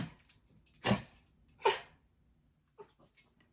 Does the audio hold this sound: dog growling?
yes